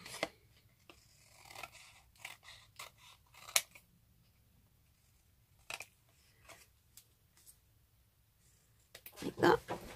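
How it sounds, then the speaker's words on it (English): Scissors cut around a paper embellishment for a journal, giving a close, intermittent run of crisp snips and light paper rustles with short pauses between them, ending in a louder burst of handling noise. "put that to the edge and cut around it"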